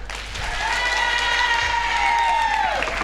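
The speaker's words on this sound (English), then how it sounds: "another round of applause." A resort audience at a Saturday night choir show claps and cheers, building in the first half-second then holding steady, with a sustained sung or whistled tone riding over the crowd.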